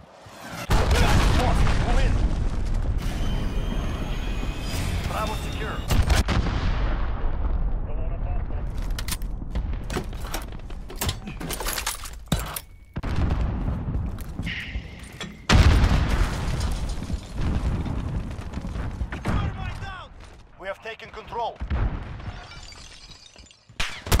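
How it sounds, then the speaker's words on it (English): An enemy cruise missile strike in Call of Duty: Modern Warfare multiplayer brings a string of loud blasts, shattering debris and scattered gunfire over about twenty seconds, with voices calling out between the impacts. "Enemy cruise missile, take cover."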